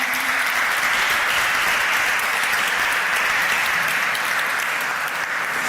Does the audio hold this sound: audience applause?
yes